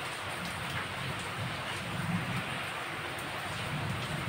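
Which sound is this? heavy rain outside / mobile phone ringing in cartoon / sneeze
heavy rain outside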